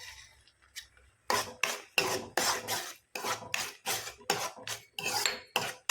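Vermicelli kesari with cashews and almonds stirred in a pan, a run of rhythmic scraping strokes of a spoon across the metal, close and distinct, each stroke a short rasping sweep with brief gaps.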